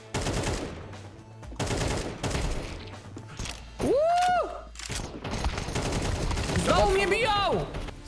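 Bursts of automatic gunfire in a Counter-Strike 2 match, with rapid rattling volleys coming in several rounds and excited voices talking over the shooting.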